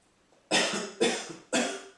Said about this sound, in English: take in a deep breath and then cough for me